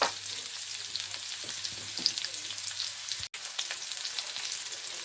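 Onions, one and a half medium ones, frying in a pan for paneer pulao, a steady close crackling sizzle throughout with a brief dropout partway, no voices.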